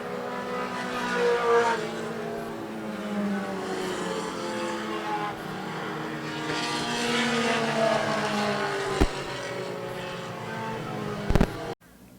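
Outlaw Mini race cars roar past at a short-track race as the checkered flag flies, engines droning steadily with Doppler sweeps of passing cars and a sharp crackle near the end.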